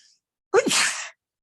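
A single short sneeze, sharp and close, after a brief quiet pause.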